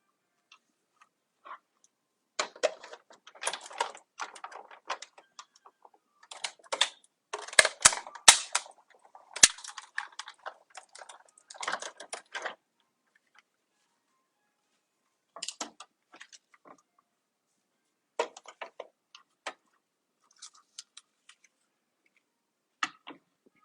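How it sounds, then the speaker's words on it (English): A manual die cutting machine cranking parchment and craft pieces through, producing irregular clusters of sharp clicks and ratcheting ticks, close and fairly quiet, with pauses between runs and no talking. "let's run these through our die cutting machine"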